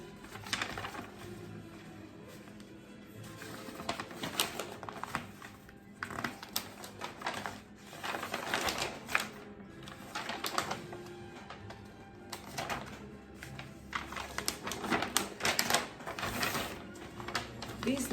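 A large sheet of paper sewing pattern for a Chinese dress is unfolded, loud crinkling rustles arriving in irregular bursts close up, over a speaking voice.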